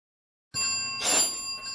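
A newfangled mechanical doorbell mounted on a house's front door rings once with a sudden bright metallic strike, its clear ringing tone swelling briefly and then lingering as it decays, close by with no voices.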